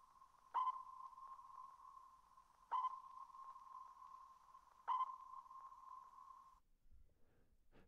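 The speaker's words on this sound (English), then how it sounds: "A sonar ping is basically the same thing as a pulse." Three evenly spaced sonar pings, each a sharp onset ringing into a steady high tone that rings on before cutting off, faint and alone with no voices.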